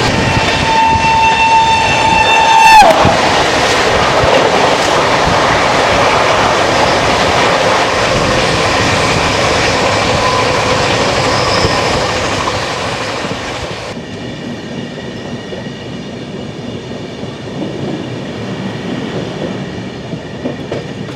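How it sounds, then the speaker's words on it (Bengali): Hool Express 22322, Suri to Howrah, rumbles loudly and continuously on the rails, opening with a sustained horn blast that cuts off after a few seconds, then the running noise shifts to a duller tone partway through. "এবার আমাদের সাথে দেখা হবে ট্রেন নাম্বার 22322 সিউড়ি থেকে হাওড়া হুল এক্সপ্রেসের"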